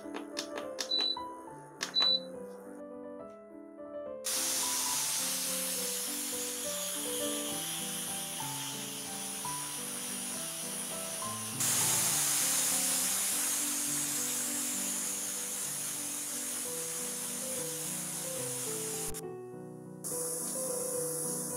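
A loud, steady hiss of steam venting from a pressure cooker cooking spinach on a gas stove runs for about fifteen seconds, with music playing underneath the whole time.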